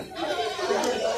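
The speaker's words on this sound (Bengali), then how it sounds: "এই ছাগল দুটো আনছেন না" Goats bleat amid a busy, crowded village livestock market in Tangail, Bangladesh, with the calls blending into a dense wash of people talking nearby throughout.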